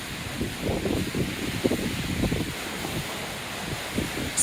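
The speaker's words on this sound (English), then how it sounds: "Winds are totally picking up" Hurricane Ian's strong, shifting wind buffets and roars continuously in southwest Florida with gusty rushing noise, loud and close throughout.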